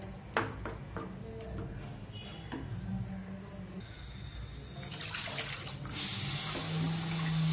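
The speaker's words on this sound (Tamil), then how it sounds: "இப்ப நமக்கு எந்த அளவுக்கு சாம்பார் வேணுமோ தண்ணி விட்டுக்கலாம்." Water poured into a pot of mango sambar on the stove, a soft continuous splashing and trickling that swells toward the end, close by, with no speech.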